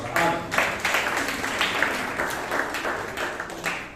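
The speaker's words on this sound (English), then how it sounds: "So a lot of applause for Anand" Audience clapping at a Bangalore Toastmasters club meeting after a speaker is praised, a steady wash of many hands fading slightly over four seconds, with no talk over it.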